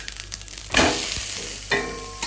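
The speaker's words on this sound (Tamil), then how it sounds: "இந்த சப்பாத்தி போட்டு சப்பாத்தி வைக்கிறேன். சுற்றி லைட்டாக கொஞ்சம் எண்ணெய் ஊற்றி விடுவோம்." Chapati cooking in a little oil poured around it on a pan about to be covered, giving a sudden loud sizzle that holds steady, then a second surge of frying near the end.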